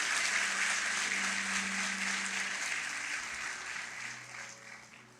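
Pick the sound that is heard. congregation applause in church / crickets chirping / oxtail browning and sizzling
congregation applause in church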